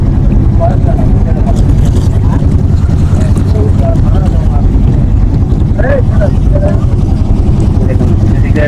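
A boat crosses a river near Charkatari char in Manikganj, its engine a loud, constant low drone mixed with wind buffeting the microphone, while voices murmur faintly underneath.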